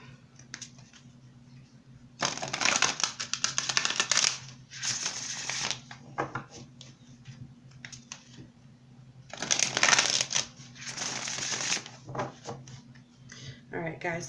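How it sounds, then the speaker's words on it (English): Tarot cards being shuffled and pulled during a reading: two bursts of crisp riffling and slapping card noise separated by quieter handling and clicks, close to the microphone. "let's go ahead and pull some cards here that are going to indicate your obstacles or your challenges"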